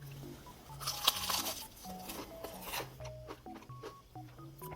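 A quiet, close crunchy bite into crispy fried chicken, followed by soft chewing.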